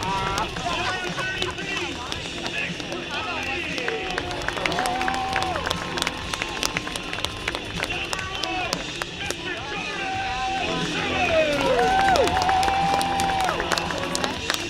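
A DGF high school football crowd at an outdoor game against Detroit Lakes, a busy murmur with scattered cheers, clapping and whistles from the stands, while a voice talks over it throughout.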